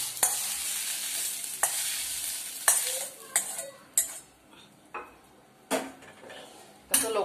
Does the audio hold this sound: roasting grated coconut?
yes